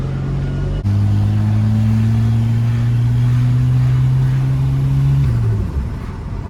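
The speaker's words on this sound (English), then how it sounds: "We're gonna have to build some fucking boost." A boosted, engine-swapped 36-year-old Volvo 240 accelerates hard, its loud, steady engine drone rising in pitch for several seconds before easing off near the end.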